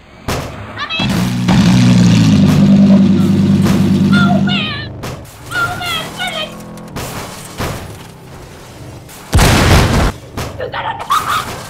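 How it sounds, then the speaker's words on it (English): A car engine blows up in a video game, with a sustained loud roar and rumble followed by a sharp burst near the end, while a player talks excitedly over it. "How did you survive the explosion?"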